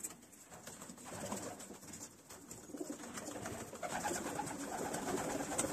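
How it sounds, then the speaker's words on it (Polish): A flock of pigeons coos continuously close by outdoors, a soft throaty murmur of many overlapping calls with steady background noise and no talk. "A jest tu trochę ślicznych gołąbków."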